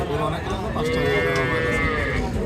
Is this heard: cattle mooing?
yes